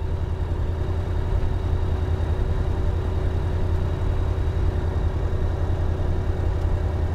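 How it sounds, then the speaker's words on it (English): A Rotax 912 engine on a Sinus motor glider runs steadily during a ground run-up toward 4000 RPM, a dense, constant mechanical drone with a fixed tonal hum, close and loud without any talking. "now gradually we will increase the RPM to 4000"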